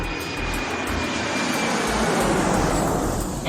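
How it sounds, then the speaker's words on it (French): A broad airplane engine drone holds steady and loud throughout as a sound effect in a French audio fiction, a private plane cruising toward Paris, with no voices over it. "avec mon avion personnel, c'est assez rapide"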